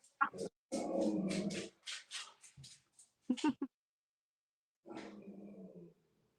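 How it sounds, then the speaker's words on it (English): A dog growls and barks close by in a series of rough, snarling bursts with brief gaps, then one more growling stretch after a pause, with no speech over it. "This is not my dog, or I would tell it to shut."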